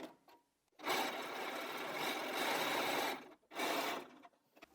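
Domestic sewing machine with an automatic presser foot runs in two bursts, stitching pieced quilt fabric for a pineapple block; a loud, steady close whir of about two and a half seconds, a brief pause, then a shorter run.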